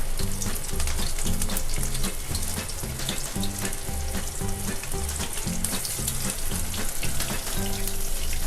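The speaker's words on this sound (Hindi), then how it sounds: "अब मैं यहाँ पे स्टेप बाय स्टेप फिश को फ्राई करने के लिए डालूँगी।" Fish fingers frying in hot oil, with a loud, dense, continuous crackle and sizzle that holds steady and close throughout, with no talk.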